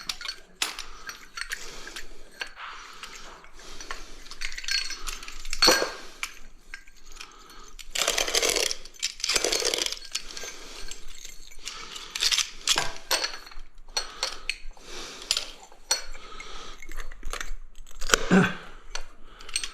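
Porcelain mosaic tiles are scored and snapped by hand without a wet saw, giving scattered sharp clicks, crisp snaps and small clinking taps up close, irregular and spaced apart across a quiet room.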